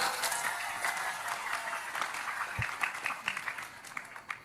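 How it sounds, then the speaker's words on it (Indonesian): An audience claps for the village head at an Indonesian religious gathering, a moderate patter of applause from a crowd running continuously, slightly distant, with faint voices underneath. "Tepuk tangan Pak Lurah."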